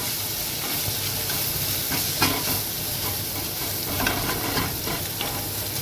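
Onions sauté in a frying pan for a dried-fish fry, a loud steady sizzle broken by repeated scraping stirs of the spoon.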